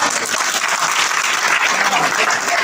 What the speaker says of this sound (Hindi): पीछे के लोग ताली नहीं बजा रहे